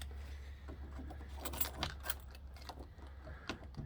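Car keys jangle and clink in a 1957 Monarch's ignition as someone works a key, sounding as irregular metallic rattles and taps up close over a low, steady hum.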